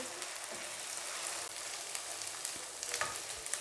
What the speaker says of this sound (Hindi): अब मैं दोबारा से इसको भूनूंगी थोड़ी देर के लिए